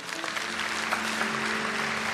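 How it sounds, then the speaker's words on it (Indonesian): Applause from a church congregation giving praise to Jesus, a dense steady wash of clapping sustained throughout, with a low held tone running beneath it. "kasih tepuk tangan untuk Tuhan Yesus."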